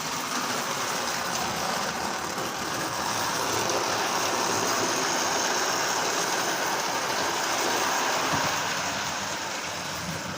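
A model train Army engine running in consist on a home layout makes a steady, continuous mechanical hum and rumble. The sound holds at an even level throughout, with no talking over it.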